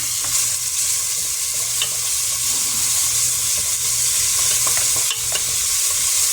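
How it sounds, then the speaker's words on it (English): Minced garlic and vegetables sizzle steadily in a hot pan while being stirred, a constant frying hiss with small scraping knocks from the utensil, close and alone. "I have 3 tablespoons of minced garlic that I'm going to sweat off"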